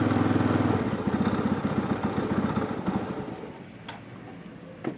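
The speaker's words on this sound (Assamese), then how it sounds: "যেতিয়া আমাৰ এইটো হৈ যোৱাৰ পিছত আমি ইঞ্জিনটো ষ্টাৰ্ট দিম।" A TVS Ntorq scooter engine with a freshly fitted spark plug running close by, a steady buzzing rumble that slowly fades, with a few sharp clicks near the end and no voices.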